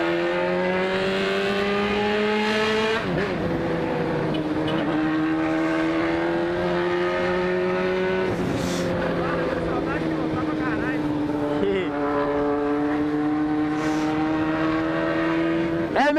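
A motorcycle engine idles and revs close by in a workshop, a steady buzzing drone that dips and climbs in pitch several times, with people talking over it.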